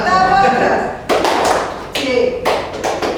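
A group does the tepuk jos clap, several sharp unison claps in a quick pattern, separated by someone speaking in Indonesian.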